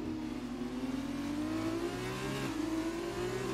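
A Formula 2 race car taking a corner at the Bahrain Grand Prix, its engine holding a steady rising whine throughout, fairly faint and continuous with no voices over it.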